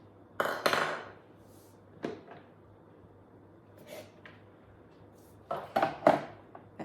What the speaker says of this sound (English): And then we lift the cutter out and we're going to take the shaft out.